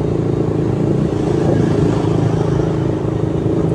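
A motorcycle engine hums steadily and loudly up close while the rider filters slowly through heavy city traffic, with a constant low drone and faint rattling, with no talk over it.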